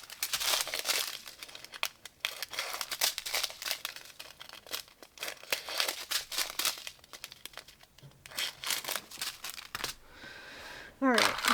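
Paper craft kit pieces for magic roses are cut apart with steady crinkling and snipping rustles close by, while someone talks throughout.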